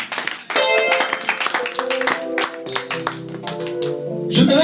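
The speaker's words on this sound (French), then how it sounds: "Applaudissez fortement pour la gloire de Dieu" Church congregation clapping loudly in a worship service, dense hand claps mixed with sustained singing or music tones and some voices, steady and full throughout.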